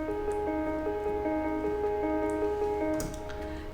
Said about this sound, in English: So I also kept a piano arpeggio that I put in the back in the drop